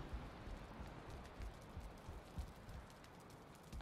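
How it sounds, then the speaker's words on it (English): Steady rain falls in the Valheim Viking survival game, a soft continuous hiss with scattered faint drips and patters, heard alone at low level with no talking. "Sounds like it's still raining."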